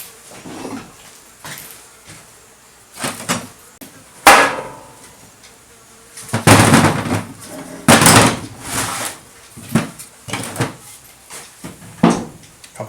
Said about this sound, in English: Couple of good whacks with a hammer got her on there.